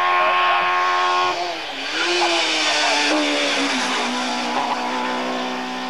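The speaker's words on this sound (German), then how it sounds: "Martin Kleiner auf seinem Audi 50." An Audi 50 race car drives past loud and close, its high-revving small engine whining steadily with pitch shifts through gear changes over the full stretch, with no talk.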